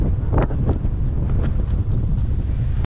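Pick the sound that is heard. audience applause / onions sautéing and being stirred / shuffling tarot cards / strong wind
strong wind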